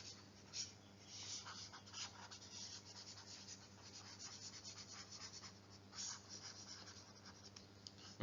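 A board being erased in a chemistry lecture, soft rhythmic rubbing and scratching strokes in irregular bursts, faint and close.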